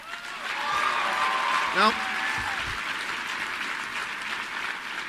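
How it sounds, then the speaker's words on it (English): Audience applause at CPAC fills the room as a steady, dense wash of clapping, with a single word spoken briefly over it partway through. "those of you watching at home may wonder why this is being applauded"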